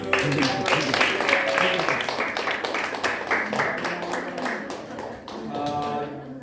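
A church youth group claps together after a closing prayer, a dense, continuous patter of hand claps from many people in a room, fairly loud and close, with voices mixed in.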